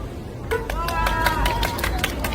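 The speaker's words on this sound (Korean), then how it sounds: "한국 1번 선수의 노래를 듣겠다. 박수 함성!" A street busking crowd at a recreation show claps and cheers for the first singing contestant: steady, dense clapping with a raised voice whooping over it, close and lively throughout.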